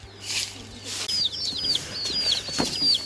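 Young chickens in a small enclosure give a string of quick, high chirping peeps with a short burst of wing flapping, close by against a quiet background.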